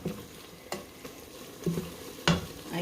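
Food being mixed in a pot, with a few distinct scraping and clanking stirs spaced over a soft background hiss. No voices.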